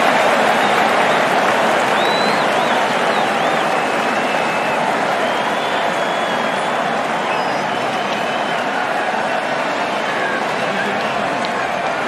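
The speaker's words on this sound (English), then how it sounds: "The crowd on their feet." A stadium crowd at a New Zealand versus West Indies cricket match cheers and applauds, a dense, steady roar of voices and clapping that holds at one level throughout.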